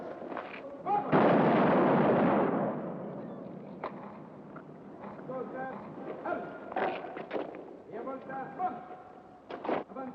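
An artillery battery firing cannons: one heavy, loud blast that rolls on for over a second, followed by voices shouting over a murmuring background.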